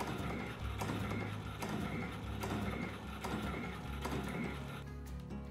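Sawmill blade sharpener with its grinding wheel advancing at about half speed, a steady mechanical whir with a regular ticking, ratcheting rhythm that repeats roughly every second, close and continuous with no talk.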